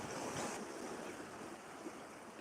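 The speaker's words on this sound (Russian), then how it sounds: "А так каменный пляж, прямо заходите в воду и уже" Sea waves wash onto a pebble beach, a steady broad surf wash with wind buffeting the microphone, fairly faint and even throughout, with no voices.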